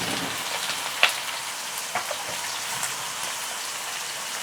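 Chopped onion and slit green chillies fry in hot oil, giving a steady, fairly quiet sizzling hiss with a few sharp pops and crackles scattered through it.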